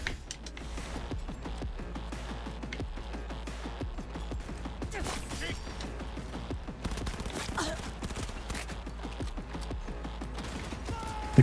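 Repeated rapid gunfire from a shooter in Cyberpunk 2077, a steady stream of close, sharp bursts running the whole time with mechanical clatter underneath and no talking.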